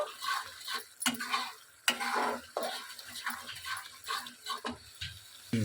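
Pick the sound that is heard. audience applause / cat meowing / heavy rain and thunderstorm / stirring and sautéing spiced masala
stirring and sautéing spiced masala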